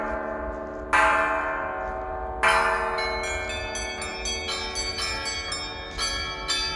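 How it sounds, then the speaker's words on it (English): Melbourne's Federation Bells, installed to mark 100 years since the Federation of Australia, ring out in a sunny outdoor setting: a sequence of clear, resonant bell strikes with long overlapping tails that grows into a rapid cascade of chimes. "You're listening to the Federation bells."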